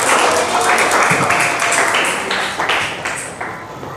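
An audience applauds together in a classroom teaching session, a steady loud patter of many hands that keeps going across the whole stretch before slowly easing off.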